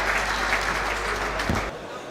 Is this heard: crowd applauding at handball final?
yes